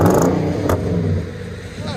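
A 2021 Nissan Titan Platinum Reserve with a 5.6L V8 and Magnaflow dual exhaust on a cold day gives a short, loud rev that swells and then eases back into a deep, rumbling idle.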